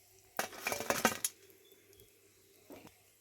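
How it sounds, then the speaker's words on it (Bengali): Crispy fried soyabean Maggi balls rattling and clinking against a utensil as they are lifted out, a dense burst of light crunchy knocks for about a second, then a brief faint clink. "আওয়াজটা দেখুন কত সুন্দর মুচমুচে হয়েছে"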